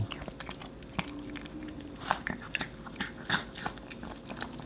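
A dog eats a homemade digestive treat of meat and cabbage, with soft wet chewing and crunching bites in an uneven rhythm up close, and faint background noise throughout.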